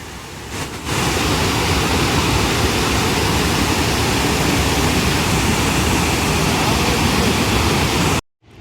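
Kakabeka Falls near Thunder Bay, Canada roars as a loud continuous broadband rush of falling water heard from the trail area, steady and unbroken for several seconds before cutting off abruptly.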